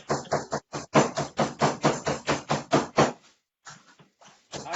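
A hammer striking a bag to crush ingredients for a Mississippi mud pie, about a dozen fairly even, rapid thuds, then a pause and a few scattered softer knocks.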